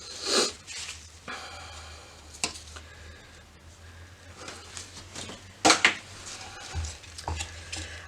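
Red mica colourant for cold process soap being stirred in a small container, with soft scraping and a few sharp clinks and taps at irregular moments over a quiet background.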